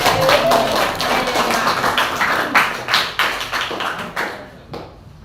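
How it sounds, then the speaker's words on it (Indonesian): Classroom applause for a student, a burst of many hands clapping close and loud that thins into scattered sharp claps and fades out near the end. "Kita tepuk tangan untuk Yohanes."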